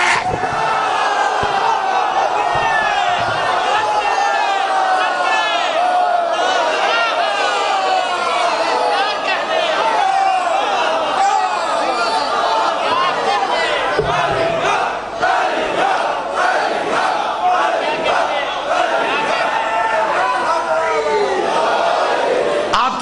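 A large crowd at a Muharram gathering chants the slogan "Ali Haq" in unison, a loud, sustained wall of massed voices rising and falling in a steady rhythm throughout.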